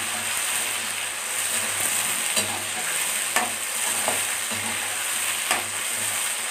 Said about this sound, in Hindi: आलू में थोड़ा टाइम लगता है तो इसको हम फ्राई करेंगे सही से।